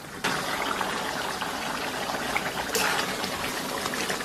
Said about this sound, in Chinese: 咕嘟个3-5分钟以后啊，咱们给里边来点这个水淀粉